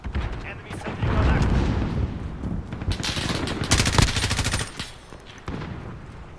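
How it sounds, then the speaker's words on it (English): Enemy sentry gun in the Call of Duty Modern Warfare video game firing loud, dense automatic bursts that rise and fall for several seconds, with voices faintly mixed in. "Enemy sentry gun"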